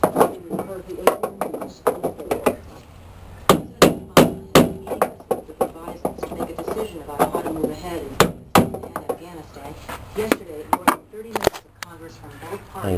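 Hammer driving a chisel against a hinge during a K5 hinge repair, sharp metallic knocks in irregular bursts and runs of quick taps, close and loud, with someone talking in between.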